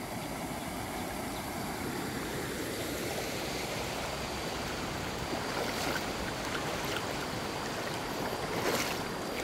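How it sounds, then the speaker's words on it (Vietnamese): A forest stream at low water pours over a small waterfall, making a constant, even rush of water that stays fairly soft and steady throughout, with no voices. "Đây này, nó thành thác đây này."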